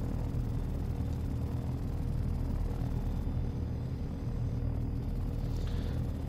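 A helicopter flying in the simulation game Take on Helicopters, a steady low rotor and engine drone with a faint buzz, continuous and even throughout.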